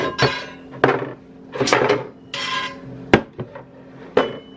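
Cast iron skillet and pans clank and knock in a home kitchen, a series of sharp metallic bangs and scraping rattles spaced irregularly, loud and close with no speech.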